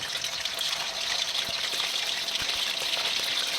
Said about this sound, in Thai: พอน้ำมันร้อนแกก็ใส่ลงไปเลยหมูสามชั้นแกเนี่ยอ่ะเนี่ยอ่ะหมูสามชั้น ใส่ลงไปเลย เออทอดไปเลย